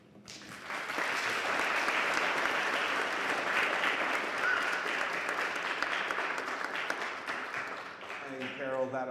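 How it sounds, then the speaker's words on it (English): Sustained applause from a church congregation fills the space, dense and steady for several seconds before thinning out, with a voice starting to speak at the end. "that applause is not only thanking you for being here and sharing with us this morning"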